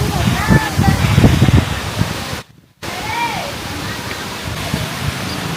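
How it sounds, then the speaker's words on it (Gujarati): A running fountain at the Sarangpur Kashtbhanjan temple sends lots of water falling in a loud, steady splashing rush, with faint high chirps and voices over it and a brief dropout midway. "ફુવારા ચાલુ છે જોઈ લો બહુ પાણી પડે છે"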